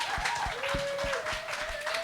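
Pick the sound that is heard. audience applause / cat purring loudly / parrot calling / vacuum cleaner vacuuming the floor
audience applause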